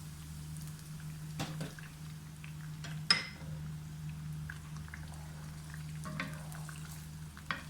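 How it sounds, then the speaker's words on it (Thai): Eggs fry with garlic in a pan, a faint steady sizzle under a low hum, broken by a few soft clinks of a utensil against the pan. "กระเทียมเริ่มหอมนะคะ เราก็ใส่ ไข่ลงไปนะคะ ใช้ไข่สามฟองนะคะ"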